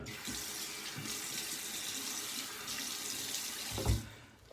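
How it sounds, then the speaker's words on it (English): Water runs steadily from a tap into a small cup while preparing shaving lather, a continuous close splashing stream that swells briefly near the end before easing off. "I'm just gonna drip some of that water right into that little cup"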